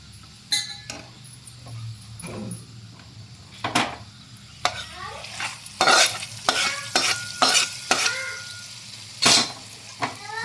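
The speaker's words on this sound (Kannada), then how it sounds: "ಈಗ ನಿಧಾನವಾಗಿ ಎಲ್ಲದಕ್ಕೂ ಮಿಕ್ಸ್ ಮಾಡೋ ಹಾಗೆ ನಾನು ಕಲಿಸ್ತಾ ಇದ್ದೀನಿ" A spoon stirs tempered gojjavalakki, a spiced beaten-rice dish, in a pan over the heat: repeated scraping and clinking strokes in an irregular rhythm over a soft, steady sizzle, close by with no talking.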